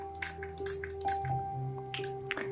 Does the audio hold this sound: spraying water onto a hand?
yes